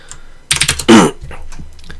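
Fingers tap a computer keyboard while compiling code on Linux: a short quick run of close key clicks, then one heavier press of the Enter key, followed by softer scattered taps.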